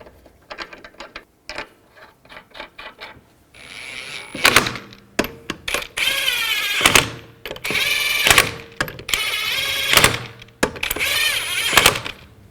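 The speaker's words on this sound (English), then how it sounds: "Put the lug nuts on." Lug nuts are spun onto a Chevrolet Equinox rear wheel during a brake job, heard as quick ratcheting tool bursts and metallic clicks separated by short pauses, close and fairly loud.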